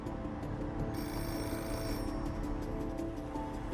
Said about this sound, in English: Shortly after midnight, the phone rings